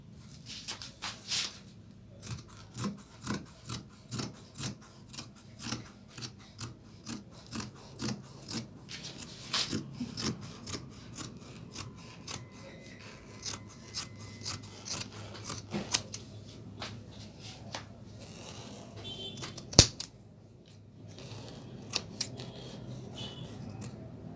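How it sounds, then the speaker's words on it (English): Scissors cut fabric for a pencil skirt in a steady rhythm of close, crisp snips, repeating for a long stretch with occasional rustling of cloth and no speech. "we're done with the cutting of the pencil skirts"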